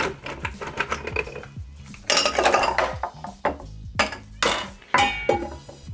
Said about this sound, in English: I'm going to add some ice, and we're going to stir this for about 30 seconds.